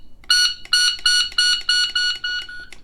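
A Pocket Pro II shot timer's beeper sounds seven loud, shrill electronic beeps in a steady rhythm while its volume is adjusted, the last ones weaker and shorter.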